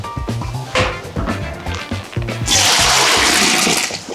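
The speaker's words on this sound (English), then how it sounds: "I'm going to walk over there with this pot and strain it" Hot water and blanched snow peas pour from a pot into a strainer, a few light clatters of the pot first, then a loud, steady rushing gush that lasts about the final two seconds.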